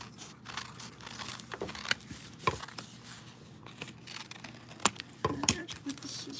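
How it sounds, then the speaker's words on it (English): Scissors snipping through paper at a crafting table, a few short crisp cuts with crinkling and rustling in between, faint and close. "Edge with the scissors."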